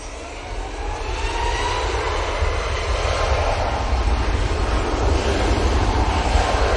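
An ATR 72 turboprop arriving at Manchester Airport from Dublin, its engines a loud steady droning roar with a constant low rumble, close and sustained throughout.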